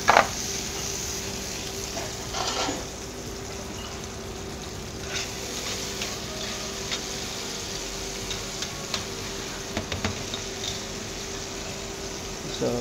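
Vegetables sizzle and fry in a paella pan for a seafood paella, a steady close crackle with occasional stirring scrapes and clatters throughout.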